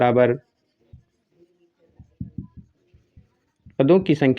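Chalk or marker strokes on a classroom board during a Class 10 maths lesson, a handful of short soft taps and scratches in a quiet gap, with a teacher talking at the start and end.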